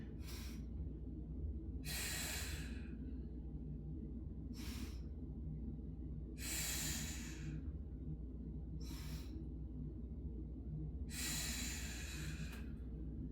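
Steady slow breathing during a yoga balance exercise, with six distinct breath bursts spaced every couple of seconds over a constant low background hum, close and fairly loud.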